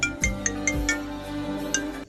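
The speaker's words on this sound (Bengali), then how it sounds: "এদিকে ফোনটা বাজতে চলেছে।" A mobile phone's melodic ringtone plays in a dramatized scene, with bright repeating tonal notes and soft low thumps, fairly close and with no talking over it.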